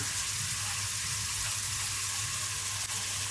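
Chopped wild greens go into a hot pan and sizzle steadily in a continuous, close frying hiss with no talking.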